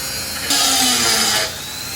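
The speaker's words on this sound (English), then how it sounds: "that's the last I'll need the Dremel or rotary tool" A Dremel rotary tool grinds steadily for about a second with a high whine, louder against a constant background motor hum, then eases back, while building a DIY hydroponic totem.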